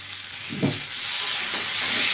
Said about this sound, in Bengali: আলুটাকে মশলার সঙ্গে একটু কষিয়ে নেবো